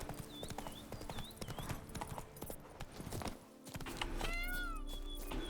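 Roach the horse in The Witcher 3 running, with rapid, close hoof clip-clops thudding throughout, while bird calls and ambient game music sit in the background.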